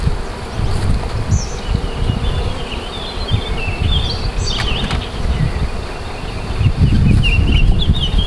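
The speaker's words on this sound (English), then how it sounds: "we got a nice full hive here" Honeybees swarm around an open hive full of built-out frames, a dense, continuous, loud buzzing close by with individual bees darting past, some louder passes near the end.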